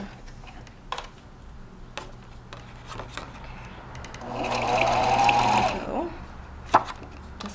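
Sewing machine stitching twine down onto a paper card runs in one loud burst of rapid whirring stitches in the middle, with soft handling clicks and taps before and after.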